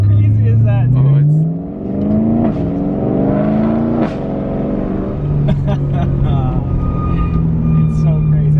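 BMW E92 M3 with carbon fiber plenum and exhaust valves open revs hard several times, engine pitch climbing and falling in loud close bursts, with people talking over it.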